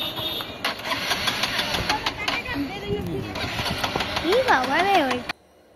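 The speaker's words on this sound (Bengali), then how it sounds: "বাইক স্টার্ট হয়ে গেছে" A motorcycle engine idles after starting, a low, uneven mechanical rumble nearby, with voices talking over it before the sound cuts off abruptly.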